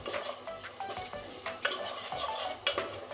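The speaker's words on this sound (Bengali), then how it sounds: "সুন্দর করে আর একটু কষিয়ে নেব।" Cumin and coriander fry in oil for a rupchanda fish curry, with a soft, steady sizzle and repeated scraping stirs at an irregular pace, heard close and fairly quiet.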